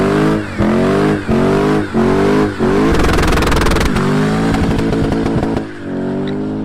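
A car engine revs hard in a series of sharp blips, each rising and dropping quickly, before one longer sustained rev that settles back to a steady idle. The engine is loud and close, and no one speaks.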